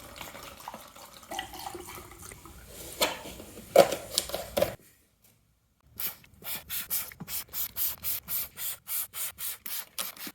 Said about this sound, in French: On va mettre du dégrippant sur tous les écrous que je dois démonter.